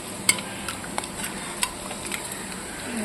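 Food being pressed and stirred in a kadai, soft sizzling under a series of sharp spoon taps and scrapes against the pan, close and steady.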